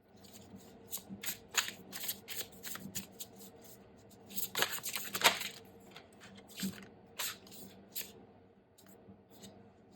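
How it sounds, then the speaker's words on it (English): Soft, crisp riffling and slapping of a large tarot deck being lightly shuffled, a quick irregular series of papery bursts, close by and fairly quiet. "This deck is too big for me to shuffle, so I'm going to just shuffle it lightly"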